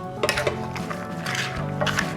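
A spoon stirs homemade bourbon baked beans in a pot, giving a steady run of scraping and soft metallic clinks against the pot with a few sharper knocks.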